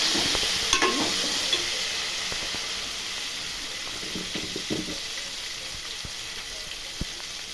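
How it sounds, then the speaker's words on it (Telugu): Turmeric being stirred into brinjal masala frying in oil with ginger and garlic: a steady close sizzle and hiss, broken by occasional soft spoon scrapes and clicks against the pan, with no talking. "పసుపు వేసుకొని ఒకసారి కలుపుకుందాం"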